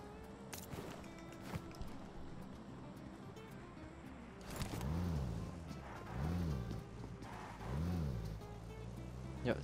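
Vehicle engine in the battle royale game PUBG Mobile, a low motor hum with rising and falling pitch sweeps that repeat several times, with a quiet voice nearby.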